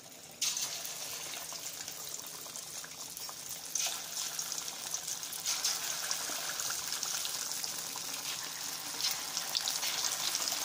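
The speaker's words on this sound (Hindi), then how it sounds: "क्योंकि अब ये सब फ्राई होगा इंडियन चिकन के चाइनीज पकौड़े तो पकौड़े फ्राई होते हैं अब ये देखिए चिकन हमने डाल दिया है" Chicken pakoras in egg batter drop into hot oil in a kadai and set off a sudden, loud, steady sizzling hiss that keeps going with slight swells, up close and with no voices.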